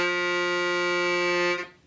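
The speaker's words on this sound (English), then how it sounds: "I can also play a low sound." A low reed keyboard note sustained for about a second and a half, a buzzy, harmonically dense tone that cuts off near the end, played alone without talk.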